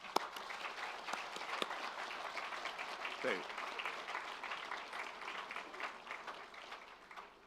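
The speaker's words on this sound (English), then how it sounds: "I'd ask all the graduates to give them all a big round of applause" Graduates at a School of Engineering graduation celebration give their families and faculty steady, sustained applause, fairly faint and even throughout, with a brief spoken word at the start.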